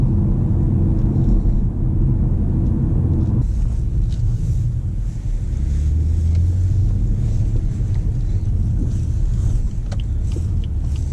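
Cabin sound of a 2018 BMW 440i Gran Coupe on the move: a loud, steady low road and engine rumble with wind noise. The engine itself stays muted, and no one speaks.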